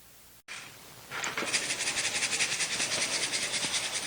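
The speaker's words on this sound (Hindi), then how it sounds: "इस तरह मशीन में डाल के आपने दोनों दालों को हम इसी तरह पीसेंगे।" A kitchen grinder whirs steadily as it grinds two kinds of lentils for Punjabi panjeeri. A loud, continuous motor roar kicks in after a brief pause and pulses rhythmically throughout, with no talk.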